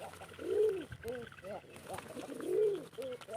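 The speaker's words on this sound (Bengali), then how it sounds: "দেশি কবুতর খামার" Native pigeons on a pigeon farm, giving two soft, rolling coo phrases close by against a quiet background.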